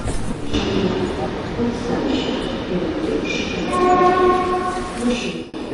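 Busy platform ambience at Tenali railway station with a train rumbling nearby, people talking in the background and a brief tonal squeal or horn-like whine.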